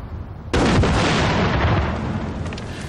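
A loud explosion set off during the filming of a television comedy scene on a freezing outdoor location, bursting in suddenly after a quieter rumble and roaring on as a long, heavy, sustained blast.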